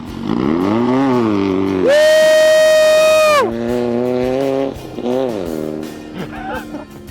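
Several off-road race vehicle engines at the Mint 400 rev and roar in the background, one passing with a loud high whine, while people talk excitedly over the noise.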